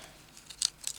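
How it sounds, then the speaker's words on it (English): Kids' scissors snip paper in two short, crisp cuts close by, faint and sharp against a quiet room, with no talking. "these pair of scissors that I'm using here now are actually out of a kit that I got with kids' scissors"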